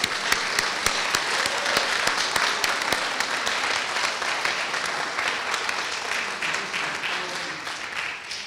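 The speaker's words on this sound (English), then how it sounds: "So to applaud him again." Applause from an audience at a learning center grand opening and reception, steady clapping filling the room throughout with sharp individual claps standing out, no talking over it.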